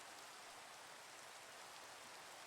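Rain falls in modded Minecraft as a faint, steady hiss of dense drops that never lets up and has no voices over it.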